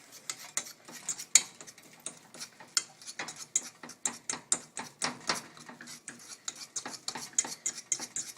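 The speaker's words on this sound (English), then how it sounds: "Now start working that right into the flour with your fork. Just mash, mash." A fork mashes and works egg into flour in a bowl for spaetzle dough, making quick, rhythmic soft taps and scrapes that repeat steadily and close up.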